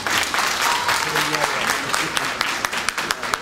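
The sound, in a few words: audience applause for young fighters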